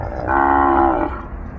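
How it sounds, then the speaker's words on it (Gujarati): A single long, close moo from cattle at a cow shelter holding bulls, cows and calves, rising clearly over a low background hum. "ચાલીસ નંદી છે બીજી ગૌ માતા છે અને બીજા વાછરડા છે"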